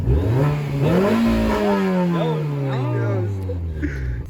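Close, loud Mini Cooper engine revving, the pitch climbing then slowly falling back as the throttle eases, with a rough mechanical edge throughout.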